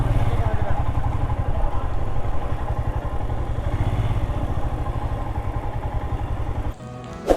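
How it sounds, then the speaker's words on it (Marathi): A motorcycle engine runs steadily nearby as the bike is ridden in and parked near a gate at a hill station, then cuts off abruptly near the end with a clunk. "बाईक इथे पार्क करायची आपल्याला."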